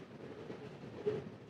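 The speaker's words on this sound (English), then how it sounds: "Curious to see just how long this train is, with 4 lead engines" A long train led by four locomotives rolls past, giving a steady, faint low rumble with a slight swell near the end.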